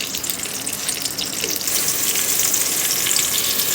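Onions dropped into hot desi ghee in a home kitchen sizzle and fry with a loud, steady crackling hiss that swells slightly and continues without talk.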